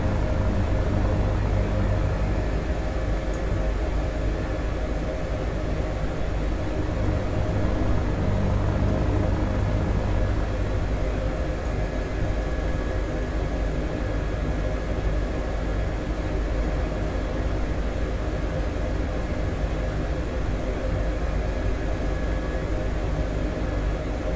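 An Airbus H145 helicopter flies over a runway before a landing at a helipad, its steady broadband rotor and turbine roar continuing loud and unbroken throughout with no talking.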